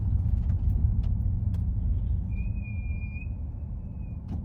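Vehicle brakes let out a thin, sustained squeal lasting about two seconds. It rises over a constant low rumble of passing road traffic, with a few faint clicks and no voices.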